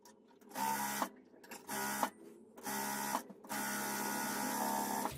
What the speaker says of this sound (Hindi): अब इसके ऊपर आप डबल सिलाई लगा ले।